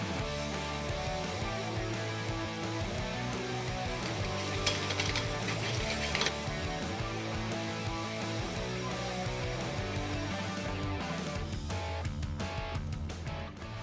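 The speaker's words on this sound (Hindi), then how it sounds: "यहाँ पे ज़ीरा थोड़ा सा भुन रहा है, काली मिर्च भुन रही है और इधर प्याज और सब्जियाँ ऑलमोस्ट पक चुकी हैं।" Cumin seeds and black pepper roast in one pan while onions and vegetables fry nearby, giving a steady, close sizzle with soft stirring and an occasional scrape of the utensil throughout.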